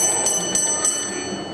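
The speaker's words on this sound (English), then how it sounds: "4 means is line clear for an express passenger train" A railway signal box bell, used in signalling instruction, rings four evenly spaced beats to offer an express passenger train. The strikes are crisp and ringing over a faint room hum.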